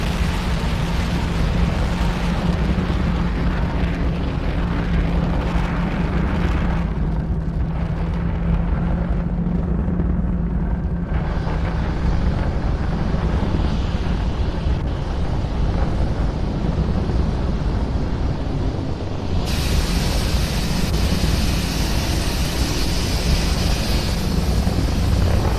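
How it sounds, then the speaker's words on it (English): A SpaceX Falcon 9 rocket climbs after liftoff from pad 39A, its engines a loud, sustained broadband roar with deep crackling rumble and wind buffeting, unbroken throughout. "Falcon 9 has had a successful liftoff from pad 39A"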